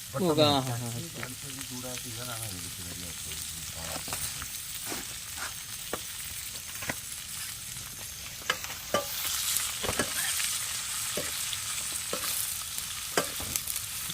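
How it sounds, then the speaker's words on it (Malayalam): Chopped onion salted and frying in a pan for fish curry gives a soft, steady sizzle, broken by quiet scraping stirs and light clicks of the utensil. "സവാള അരിഞ്ഞിടുന്നു ഇനി അത് മൂക്കാൻ വേണ്ടി ഒരു ഉൽപ്പം അത് ഉപ്പിടും"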